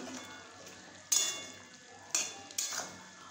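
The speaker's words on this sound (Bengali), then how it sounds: "একটু নেড়ে নিচ্ছি।" Jackfruit and prawn curry is stirred in a pan over a low flame, with soft scraping and three sharp metallic clanks of the utensil against the pan over a faint background, and no talking.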